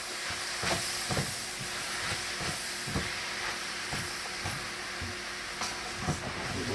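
Corned beef and cabbage fry in a pan on high heat, giving a steady sizzling hiss broken by scattered pops and utensil clicks, with no talk over it.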